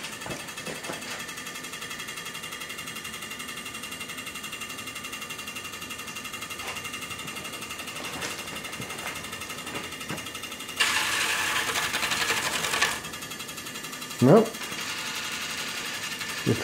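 A tester coil on a Graviflyer test rig, just turned up, hums with a steady harmonic electrical buzz, broken by a harsher, louder crackling burst lasting about two seconds and a short sharp snap near the end.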